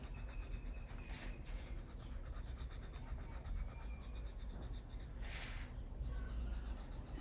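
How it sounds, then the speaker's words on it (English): A Polychromos colored pencil shades on paper under hard pressure, making a faint, close, continuous scratchy rubbing with a few slightly stronger strokes. "You can see I'm pushing harder on the pencil, so I'm getting a deeper color."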